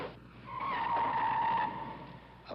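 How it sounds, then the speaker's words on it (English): Fiat 124 family car skidding during stunt driving, a single sustained tire squeal rising and holding for about a second before fading under faint engine noise. "In more than 100 films, Remy Julien has done more stunts in Fiats than in any other car. And the Fiat he prefers above all is this one"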